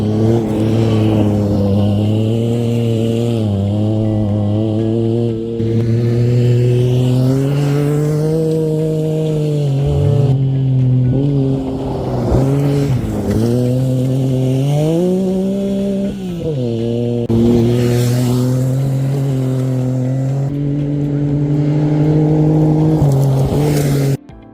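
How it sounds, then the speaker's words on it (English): A Yamaha YXZ1000R side-by-side's engine revs hard and close, rising and falling in pitch through repeated throttle bursts and gear changes across the whole stretch, loud with no talk. "this is my beautiful Yamaha YXZ1000R in action."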